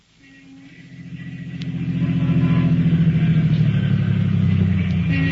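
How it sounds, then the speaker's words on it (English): A car engine rumbles and rises as the vehicle rolls up and pulls to a stop in front of a house in East Baltimore, a steady motor drone from a vintage crime radio drama, with no voices. "2 men were riding in a car which was pulling to a stop in front of a house in East Baltimore."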